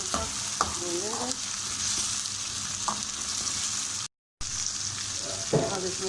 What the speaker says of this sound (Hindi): आलू को हम 5 से 6 मिनट तक भून लेंगे।